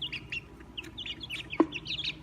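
Three-week-old chicks in a large plastic bin in a garage give repeated high chirps and peeps, scattered across the moment with one brief louder call, fairly close and alone with no talk.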